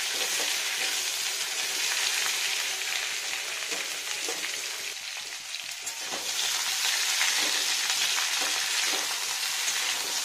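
Potatoes for aloo posto frying in a pan, a dense continuous close sizzle with occasional stirring scrapes, no talk.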